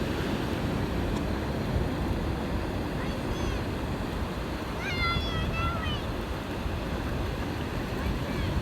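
Ocean waves break and wash up on a beach in a steady, loud, broadband roar that runs the whole time, with a few brief high-pitched tones rising over the surf midway.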